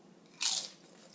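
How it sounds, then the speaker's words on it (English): A single sharp, close crunch comes from biting into a crisp homemade microwave potato chip, followed by quiet. "Okay, here's that crunch."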